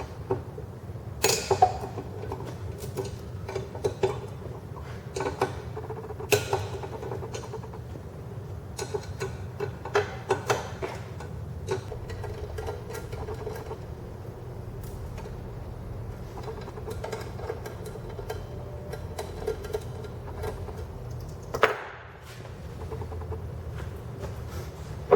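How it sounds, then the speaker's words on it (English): Torx end socket turning out bolts on a Wacker Neuson WM80 engine held in a vise: a series of sharp metallic clicks and ratcheting ticks, close up, over a steady low workshop hum. "take our Torx end socket and just start removing these bolts"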